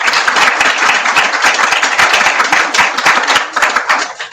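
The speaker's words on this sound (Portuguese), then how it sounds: "Vamos aplaudir o nosso estagiário." An audience applauds an intern at a Brazilian conference session, a steady, fairly loud round of many hands clapping that continues throughout.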